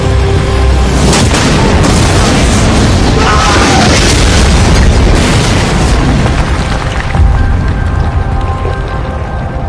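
A loud bomb blast in a reenactment of an assassination attempt, a heavy boom followed by rumbling debris and a sustained dense roar that stays strong throughout.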